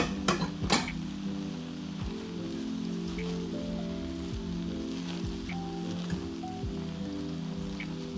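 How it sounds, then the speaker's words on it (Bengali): Egg stirred into mixed restaurant-style fried rice in a pan, heard as a soft, crackling sizzle with occasional spatula taps and scrapes against the pan, steady and close throughout. "আমি ডিমটা দিয়ে আবার নেড়ে দিচ্ছি"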